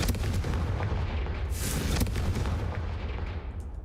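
Confringo fire spell in the Hogwarts Legacy video game blasting to light braziers, a dense booming rumble with a sharp fiery burst partway through, loud and continuous and fading at the end.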